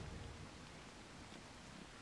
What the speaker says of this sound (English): This rain is kind of bugging me.